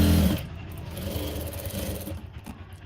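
Sewing machine stitching blouse fabric, a steady close mechanical whir running continuously at moderate volume after a brief louder start, with no talk.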